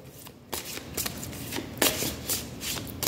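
A deck of handmade song cards being shuffled by hand, several close, crisp riffling bursts in quick succession with no talking.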